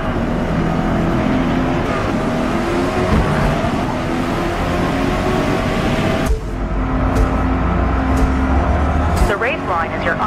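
A Corvette E-Ray laps a track in Forza Motorsport, the engine droning and revving, then surging again after a sudden drop around the middle, with a voice speaking over it.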